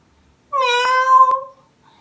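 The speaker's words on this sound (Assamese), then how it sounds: "মেকুৰী আহিছে, পলোৱা পলোৱা" A single clear cat meow, loud and close, lasting about a second against near silence.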